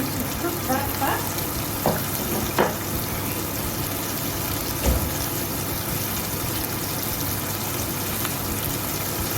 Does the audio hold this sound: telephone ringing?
no